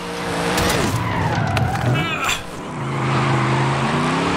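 Car engine idling at low revs in Forza Horizon 5, a game car with a loud continuous low rumble, with a brief tire squeal in the middle and gaming background noise.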